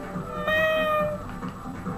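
A person imitates a cat with a single drawn-out meow, close and fairly loud over a quiet background.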